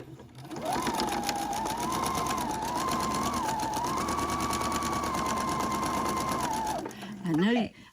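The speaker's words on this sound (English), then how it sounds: "but this is a sewing machine" A sewing machine stitches scrappy quilt pieces in one steady, fast whirring run of about six seconds, close and loud, then stops with a brief voice afterward.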